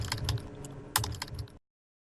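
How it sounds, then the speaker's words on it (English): Rapid, uneven keystrokes on a computer keyboard while typing out a book subtitle, close and clear, with a sharper clack near the middle before the tapping stops abruptly. "So we're going to type out the subtitle here."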